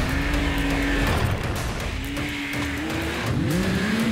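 A Yamaha Sidewinder snowmobile engine roars close and loud, its pitch sliding up and down through repeated revs over about four seconds, with no talking.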